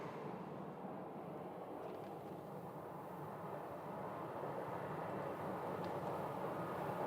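A Boeing 737-700 pulls out to taxi toward the runway at Sky Harbor airport, a faint, distant, steady broadband jet-engine roar that holds evenly throughout with no voices.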